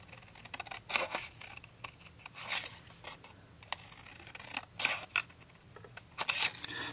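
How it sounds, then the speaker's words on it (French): Scissors cutting a square of paper for a handmade card, heard as close, quiet snips and crisp blade clicks in uneven bursts. "Et du coup, le carré, vous le coupez."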